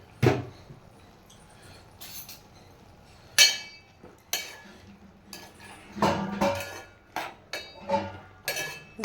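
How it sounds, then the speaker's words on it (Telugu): A spoon clinks and scrapes against a cooking pot as tamarind, brinjal and prawn curry is stirred, with irregular metallic knocks and scraping bursts, close and moderately loud, with no talk. "కొద్ది కారం వేసుకొని ఒకసారి తిప్పుకోవాలి కలపెట్టుకోవాలి"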